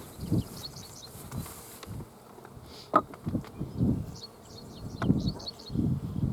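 Honey bees buzz around an open beehive outdoors, faint high drones drifting past over soft rustling and a few knocks and handling thumps, fairly quiet and uneven.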